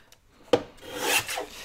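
Paper for a craft project is cut up close: a sharp tap followed by a dry, rasping slice lasting about a second, with no voices.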